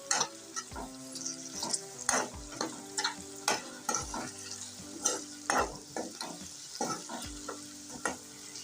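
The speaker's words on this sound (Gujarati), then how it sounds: "હવે હળદર અને મીઠું મિક્સ કરી લઈશું" Okra frying in a pan as turmeric and salt are stirred in, steady sizzling broken by regular scraping stirs of the spoon against the pan, close and alone without talk.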